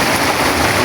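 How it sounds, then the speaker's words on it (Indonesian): Heavy rain pours steadily on a hut shelter in the countryside, a dense, loud, continuous hiss close by with no break. "Hujannya tambah deras"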